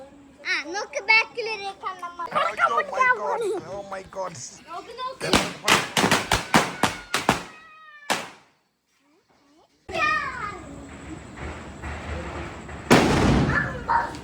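Firecrackers at a Vishu festival celebration go off in a rapid burst of sharp bangs, followed by a pause and then another loud blast, while children and adults talk and shout around them.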